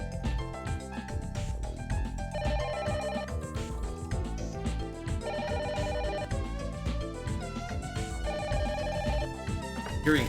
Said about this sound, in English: hearing his phone ring?